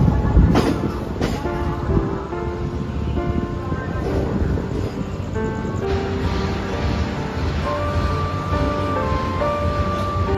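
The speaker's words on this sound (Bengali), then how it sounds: "আসানসোল থেকে আমাদের ট্রেন এই দেখতে পাচ্ছ ছেড়ে দিল ডাইরেক্ট ধানবাদ।" The Howrah–Kalka Mail (12311 Netaji Express) pulls out of Asansol station: a steady rumble of rolling wagons and wheels on rail, with tonal hums and squeals riding over it and a couple of sharp knocks early on, close and continuous.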